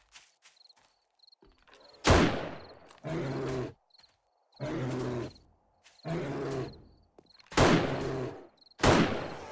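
Several loud, sharp gunshots ring out at zombies in 7 Days to Die on insane difficulty, spaced a few seconds apart between rough growling bursts, close and punchy against otherwise quiet gaps.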